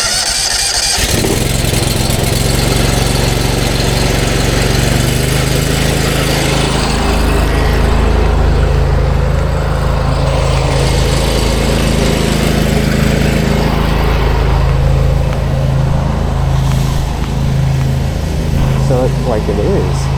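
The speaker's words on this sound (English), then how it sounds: "engine is coming on" A small engine runs steadily with a constant low drone while an oil stain is being cleaned, holding a continuous, fairly loud level throughout with faint background activity.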